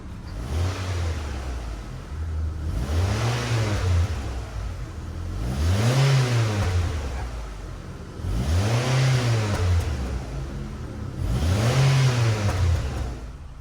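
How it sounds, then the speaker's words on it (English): A 2002 Mitsubishi Lancer engine revved repeatedly while parked, five rising and falling revs in a steady rhythm over a constant idle, loud and close with no talking. "let me give you guys some rev footages"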